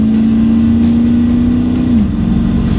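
A 1974 Aston Martin V8 pulling hard, its loud close engine drone holding a steady pitch before dipping as the revs shift, heard from inside the car.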